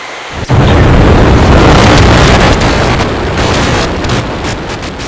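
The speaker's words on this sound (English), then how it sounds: "we have liftoff. Vehicle is pitching downrange." SpaceX Starship Flight 4 rocket at liftoff: after half a second of quiet, a loud, dense broadband roar bursts in and holds steady, rumbling and crackling with no voices.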